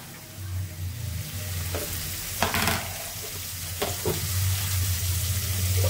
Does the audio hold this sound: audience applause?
no